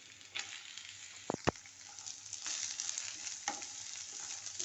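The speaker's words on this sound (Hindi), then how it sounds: "थोड़ा सा डाल के चला लें ताकि नीचे से लहसुन और ये बीज बिल्कुल ना जल जाए" Pumpkin peels frying in a pan with garlic and seeds, a steady hiss of sizzling oil broken by scraping stirs and a couple of sharp clanks of the spoon against the pan, with no voices.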